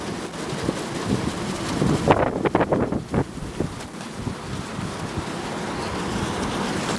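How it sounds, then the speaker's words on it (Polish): Strong gusting wind buffets the microphone beside an 18 kW wind turbine holding out in gusts up to 50 knots, a loud continuous roar with a burst of sharper gust hits early on, no voices. "Więc mamy dzisiaj w porywach do 50 węzłów i turbina jeszcze stoi."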